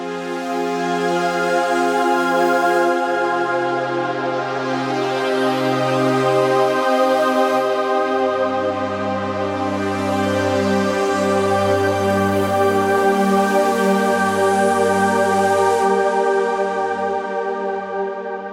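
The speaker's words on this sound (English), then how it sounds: "Let's play with the filter some more and add delay and reverb." A Kontakt synthetic sample instrument plays sustained, layered tones with shifting low notes, shaped by a filter and washed in delay and reverb, loud and continuous.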